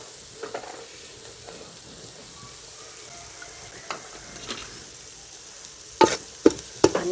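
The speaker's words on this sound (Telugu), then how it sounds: "అన్నీ వేసి ఇట్లా కలుపుకుందాము" Dry fish being mixed with pounded ginger, coriander, coconut and garlic in a hot pan, with a low steady sizzle and light stirring scrapes. Several sharp metallic clanks come close together near the end, and there is no talk.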